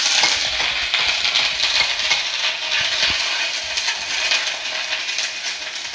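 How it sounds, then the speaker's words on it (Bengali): Ginger-garlic paste and cinnamon frying in a pan while cooking a dudh katla fish curry: a steady, close, bright hiss of sizzling oil that continues unbroken, with faint stirring scrapes and no voices. "দারচিনি পর আদা রসুন বাটাটা দিয়ে দেবো।"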